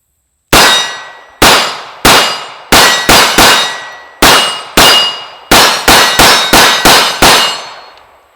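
A CZ P-01 pistol fires a full magazine of sharp, loud shots, about fourteen in all, in uneven bursts with quick doubles and short gaps, each report ringing briefly.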